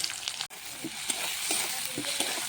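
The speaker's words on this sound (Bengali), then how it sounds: "এখন আমি কড়াইটা চাপিয়ে নেব, তেল দিয়ে দিচ্ছি, পেঁয়াজ কুচি দিয়ে দেবো" Chopped onion frying in hot oil in a wok, a steady close sizzle with a few soft scrapes and clicks scattered through it.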